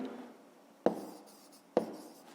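Pen strokes on paper during a fifth-grade math lesson: two sharp tap-like onsets each followed by a short scratchy scrawl, close and clear in a quiet room with no voices.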